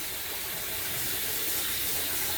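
Soapy water sloshing steadily as yarn is lifted and moved around in a filled basin, a continuous close wash of splashing with no talking.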